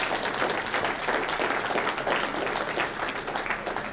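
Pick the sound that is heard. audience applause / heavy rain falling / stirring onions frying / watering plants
audience applause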